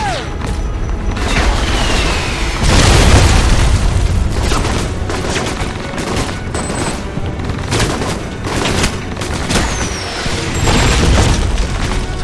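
Heavy booms and blasts from grenade explosions in the video game Alpha Protocol, with several loud, close detonations mixed with bursts of gunfire over about twelve seconds and brief moments of talk.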